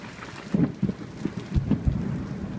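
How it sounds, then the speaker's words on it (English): Heavy rain pounds steadily outside, a dense wash of falling water with deep rumbling thunder-like thumps rolling through, moderately loud and with no voices. "The rain pounded fiercely outside"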